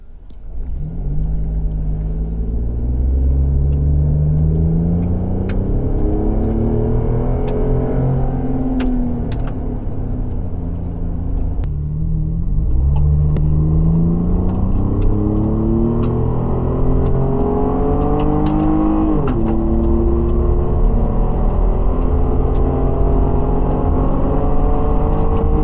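Chevrolet Colorado ZR2 pickup fitted with an MBRP performance exhaust, accelerating hard on a slick road. A deep, loud, steady rumble climbs through the gears in repeated rising sweeps, close and continuous throughout.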